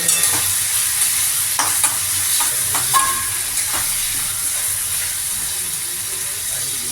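A spiced lentil mixture with garam masala and raisins sizzles steadily in a pan while a spatula stirs and scrapes through it in irregular strokes, close and fairly loud, with no clear talking.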